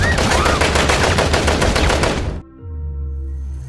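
Rapid automatic gunfire roars loud and dense in an action film scene for over two seconds, then cuts abruptly to a quieter passage with low sustained tones.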